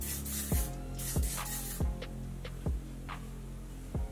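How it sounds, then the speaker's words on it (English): Several short, hissy aerosol bursts of hair shine spray close by, with soft low thumps between them. "But I'm just gonna spray this on"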